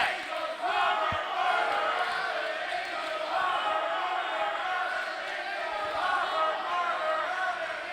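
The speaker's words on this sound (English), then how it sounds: "You're cheering this guy." A wrestling crowd cheers steadily at a tournament show, a dense, sustained roar of voices that holds for several seconds with small swells and no pause.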